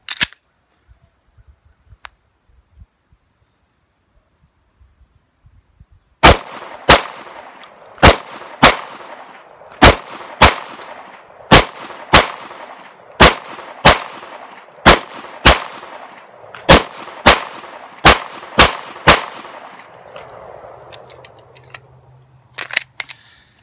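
A SAR9 pistol fired at targets on a range: about nineteen sharp, loud shots in a steady paced string after a quiet start, with a few faint shuffles and a last distant pop at the end.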